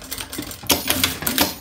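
A sewing machine stitches a finishing seam on a zipper of a fabric travel jewelry case, a rapid, steady mechanical clatter close up with rhythmic bursts.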